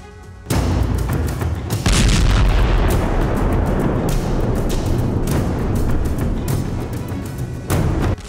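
Heavy artillery shelling and explosions on a Russia-Ukraine war front bring loud, sustained booming blasts that roll on after each impact and overlap into a continuous roar.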